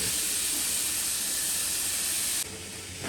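Pressure cooker whistling as mutton cooks for a Trivandrum-style biriyani: a loud, steady hissing jet of steam held for several seconds, then dropping abruptly to a quieter hiss near the end.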